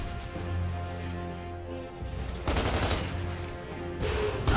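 Gunfire from Gears of War 2 on Xbox 360, with a steady backdrop of game sound, then a sharp loud burst of shots near the middle and another near the end.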